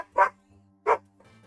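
A dog barks twice in short, loud bursts about a second apart, fairly close, with a steady low hum underneath and a faint murmur afterward.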